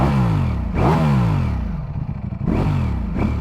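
Ducati Streetfighter V4S with stock exhaust revving up close, sharp throttle blips rising and falling in pitch, separated by a rough, lumpy idle, loud and alone.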